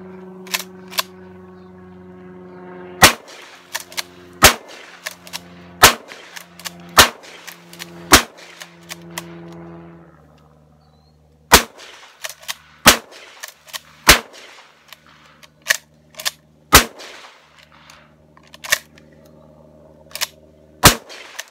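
A Mossberg 500 shotgun fires repeatedly at weeds outdoors, with a dozen or so loud, sharp blasts in two irregular bursts split by a short pause, each one ringing out briefly.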